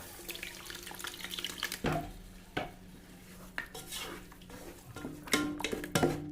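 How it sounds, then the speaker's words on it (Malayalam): Tamarind water is poured into a pan of curry, giving a quiet liquid splash and trickle, followed by several soft clinks and scrapes of a utensil against the pan, sparse and close, with no talk. "ഇതിലേക്ക് നമുക്ക് പുളിവെള്ളം ഒഴിച്ചു കൊടുക്കാം"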